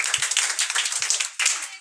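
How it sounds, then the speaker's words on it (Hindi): Students at a Class 10 farewell ceremony in Bihar clap briefly, a dense close patter of handclaps from a small group with a short break before it resumes. "चलिए ताली तुम लोग मार दो।"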